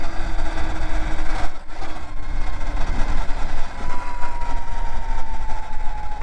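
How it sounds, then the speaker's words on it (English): A 2020 Segway X160 electric dirt bike's motor gives off a loud, steady futuristic whine with rising tones and a brief dip in the middle, heard up close without any voices. "that super futuristic electric motor noise, it sounds like it, and I love it"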